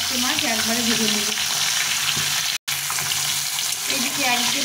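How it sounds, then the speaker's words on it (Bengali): Four whole fresh pond fish fry together in hot oil in a wok, a close, continuous sizzling hiss with a few faint clanks of handling and one sudden brief dropout near the middle. "এই চারটে মাছ একবারে ভেজে নেব।"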